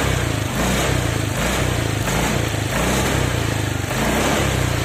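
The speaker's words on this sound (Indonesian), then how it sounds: "Nah, ini sekarang gue coba gas spontan ya teman-teman ya." A Honda Vario 125/150 scooter engine revs under quick throttle blips. It sounds near and loud, with a rough, pulsing drone that swells and dips in repeated surges.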